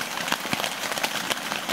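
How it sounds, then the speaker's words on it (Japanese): Rain falls steadily at an autumn highland campsite, a dense close patter with sharper individual drop hits, lasting just under two seconds and with no talking. "雨ですわ。"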